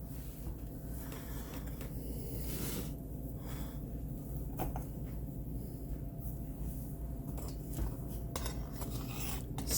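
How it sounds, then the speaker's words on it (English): Clanking and scraping of a skillet being cleaned out after frying salmon patties and bacon, with metal pans and utensils clattering intermittently and fairly close over a steady low kitchen hum. "I'm going to go ahead and clean the skillet up."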